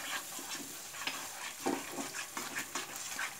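Whisked yogurt is stirred into onion paste with green chillies in a pan, giving soft repeated scraping strokes over a quiet, low sizzle.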